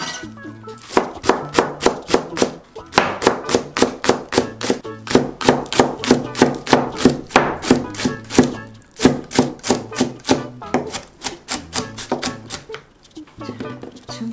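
A knife chops green onion stalks on a cutting board in quick, regular bursts of crisp, close thuds, pausing briefly between runs.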